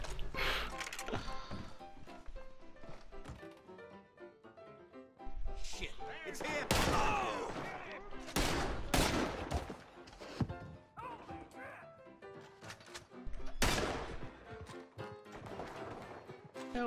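Varmint rifle shots crack again and again in the video game Red Dead Redemption 2. Sharp reports arrive in bursts among impact sounds and the noise of the game, and a voice talks now and then.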